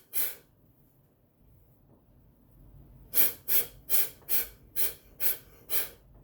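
Heavy breathing in a martial arts breathing drill: one deep intake, then a pause, then seven forceful, evenly spaced exhales in a steady rhythm, close and loud.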